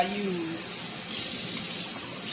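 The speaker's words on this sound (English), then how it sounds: "So I'm going to add my water." Tap water runs steadily into a cooking pot to make rice with bouillon in a home kitchen, a continuous close splashing rush that swells louder after the first second.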